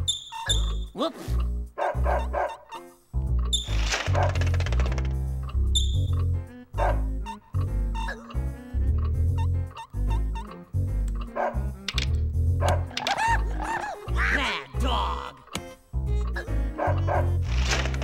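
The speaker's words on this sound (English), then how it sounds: "Dog." A cartoon dog in Space Jam for the PS1 barks and yips in short, loud bursts. They repeat over a steady run of game music and thumps.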